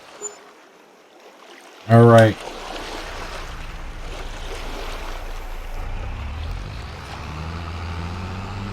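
A tank fills with water in the Farming Simulator 22 video game, a steady rushing flow under a low engine rumble. A short, loud thump comes just before it, and a voice speaks briefly.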